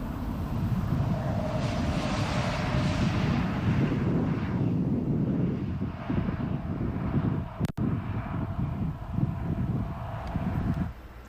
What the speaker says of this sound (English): you're seeing those explosions in real time out there in Gaza